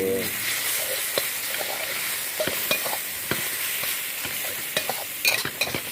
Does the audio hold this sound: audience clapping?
no